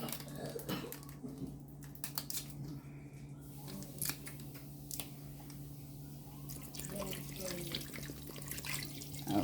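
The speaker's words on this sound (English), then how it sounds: "I think I have to put just a little bit more water in it." Water pours from a bottle into a cooking pot in a home kitchen for turkey necks, a steady faint trickle with small splashes and clinks throughout.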